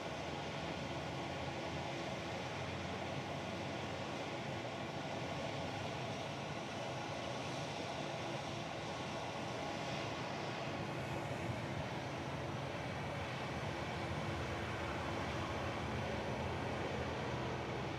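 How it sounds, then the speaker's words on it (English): A Hawaiian Airlines jet, Flight 7 in from Las Vegas, comes in to land at Honolulu airport: a steady, broad engine roar holds at an even level throughout, with no voices. "This is Hawaiian Flight 7. It's coming in from Vegas."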